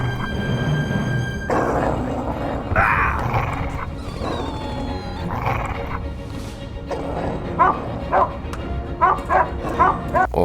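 Dogs bark, yip and whimper in a dog attack scene from the PC game The Movies, with several barks over a background of mixed game sounds and a tonal, ringing noise early on, the barks becoming more frequent toward the end.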